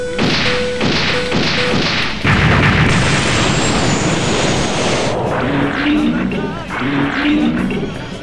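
Missile explosions in the video game SDF Macross Valkyrie Overdrive XP, a loud sustained roar of blasts and booms mixed with beeping game tones and jet-like noise, with a voice speaking over it.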